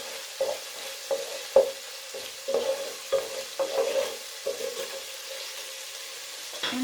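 Beef curry ingredients cooking in a pan, with a steady soft sizzle broken by repeated rhythmic stirring scrapes, close and moderately loud.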